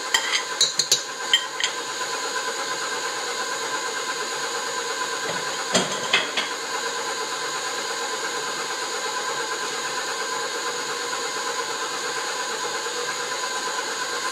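An electric mixer beats a ripe banana batter with a steady, even motor whir, opening with a few sharp clinks and a brief knock midway before running on uniformly.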